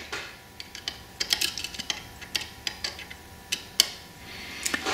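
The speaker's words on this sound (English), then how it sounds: "I'll take my little Allen wrench," Small Allen wrench turning an adjustment screw to back a razor blade off on a blade-exposure gauge, producing a series of light, sharp metallic ticks and clicks at irregular intervals, close and quiet.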